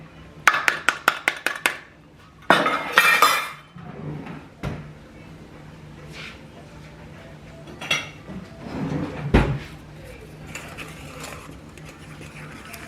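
Pita bread ingredients, including sugar and flour, being mixed by hand in a bowl: a quick run of sharp clattering utensil knocks, a burst of scraping, then sparse clinks and scrapes spaced out over a quiet background.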